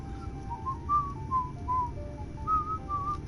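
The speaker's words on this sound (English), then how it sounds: "Sorry, I know whistling's probably very loud for you." A character in Final Fantasy 14 whistles a short wandering tune, clear close melodic notes rising and falling in quick phrases over a low background hum.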